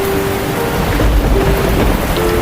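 Steady heavy rain pours with a low rolling thunder rumble underneath on a night scene in the mobile game Sakura School Simulator, continuous and close, with a faint background tone and no talking.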